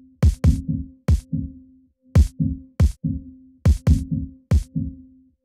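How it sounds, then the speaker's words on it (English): A booming kick drum convolved with a piano impulse response, giving a ringing, piano-like resonant tail, repeats in a steady pattern of double hits, close and dry between beats. "the kick drum wrapped in the piano"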